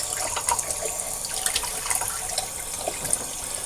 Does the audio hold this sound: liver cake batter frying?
no